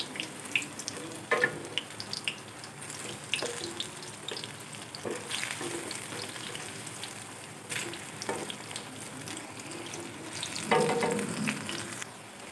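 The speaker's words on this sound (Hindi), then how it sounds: "देखिए प्याज के पकौड़े बढ़िया से फ्राई हो गए हैं" Onion pakoras deep frying in hot oil, giving a steady close sizzle throughout with occasional louder crackles and spatters, no talking over it.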